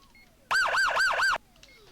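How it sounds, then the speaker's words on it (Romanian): A gendarmerie vehicle siren in a video game gives one short, loud wailing burst that sweeps up and down about four times, then cuts off. "Da, clasica sirena, dar nu prea contează sirena, ci contează ce faci cu sirena."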